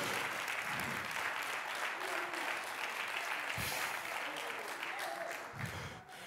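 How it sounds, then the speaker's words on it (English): Congregation at a church service clapping their hands during an evangelist's sermon: dense, steady applause filling the whole stretch with a few louder low thumps. "Oh, somebody clap your hands."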